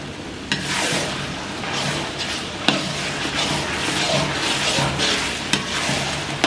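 Tomatoes frying and being stirred in a pan for a mutton curry, with a steady close sizzle and scraping stir strokes, plus a few sharper knocks of the spoon against the pan.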